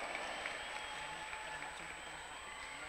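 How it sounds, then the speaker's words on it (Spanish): Crowd at a national gymnastics club championship applauding a silver medal winner, a faint, steady wash of clapping heard from a distance in a large hall. "Venga ese aplauso."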